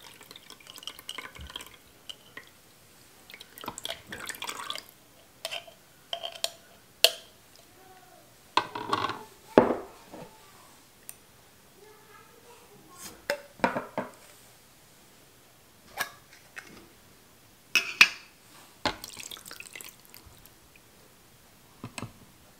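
Broth ladled out of a pot for turkey pot pie: scattered clinks of a utensil against the pot, soft liquid pours and drips, separated by quiet gaps, fairly close and moderate in volume.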